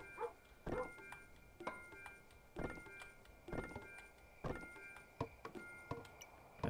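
A dog in the Kingdom New Lands video game barks in a regular series of faint, short, evenly spaced yaps, with no talk.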